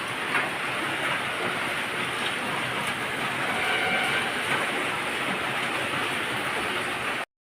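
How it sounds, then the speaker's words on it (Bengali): A downpour of all-night heavy rain in Asansol roars continuously, loud and close, then stops abruptly at the very end. "কেমন বৃষ্টি হচ্ছে দেখো, সারা রাত এরকম বৃষ্টি হচ্ছে।"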